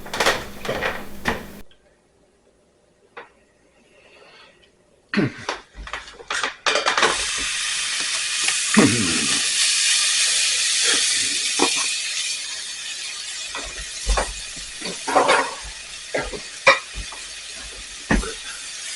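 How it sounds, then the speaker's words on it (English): Bacon browning in a saucepan on a stove, starting with a few clanks and quiet handling, then breaking into a loud, steady hiss and spatter of frying fat with scattered pops and scrapes, no talking. "we're going to start by browning up the bacon"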